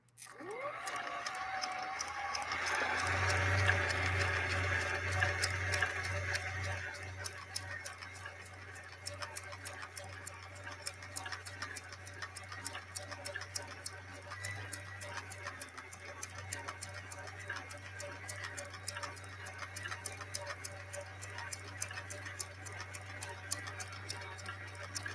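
A Viking Husqvarna 19E sewing machine stitching at a steady pace, giving a faint, even mechanical ticking and whir after a slightly louder start.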